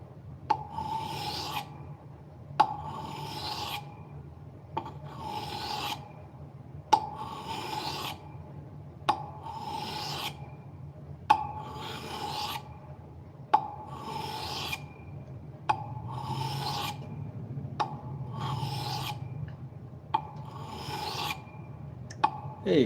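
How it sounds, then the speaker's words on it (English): Steel knife blade drawn repeatedly across a 400 grit whetstone, about ten regular rasping strokes at a steady rhythm, close and moderately loud, with no talking. "This is the 400 grit Amazon whetstone."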